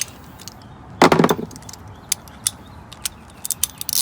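A 5/8 spark plug socket with an extension and wrench works in the engine bay of a Scion xB, giving one sharp metallic clack and then a few scattered light clicks and taps, close by and with no talk.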